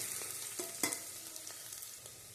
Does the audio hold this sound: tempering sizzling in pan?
yes